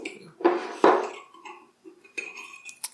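A spoon clinks and scrapes against a bowl while a vegetarian cheese mixture is stirred, a few irregular knocks and scraping strokes up close, with brief quieter gaps and no voices.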